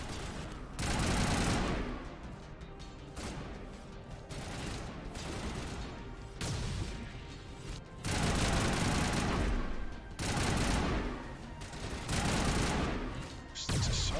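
Bursts of assault rifle fire from the video game Mass Effect Legendary Edition, several long, loud automatic volleys separated by short pauses, with no voices.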